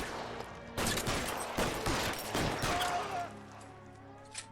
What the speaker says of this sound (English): Shots fired. Suspect is down.